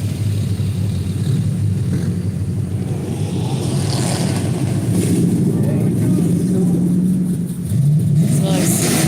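A station wagon engine rumbles past at a hot rod car show at night, a steady loud low drone that swells near the end, with people talking over it.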